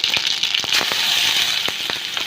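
Mustard seeds and crushed garlic fry in hot oil for a simple home-style kuzhambu, giving a close, loud sizzle broken by sharp, irregular popping crackles.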